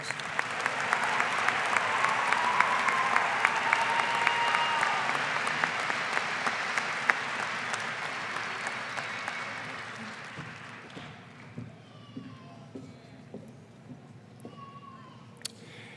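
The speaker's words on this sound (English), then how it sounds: "Let's give these two remarkable women a round of applause" Sustained applause from a large audience fills a commencement ceremony for Pikes Peak Community College, holding strong for about ten seconds before thinning into scattered claps and a few louder individual claps near the end.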